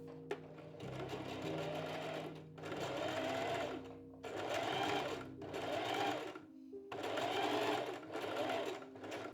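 A sewing machine stitches a gathered sleeve seam in four bursts of steady whirring, each separated by a brief pause, close and fairly quiet.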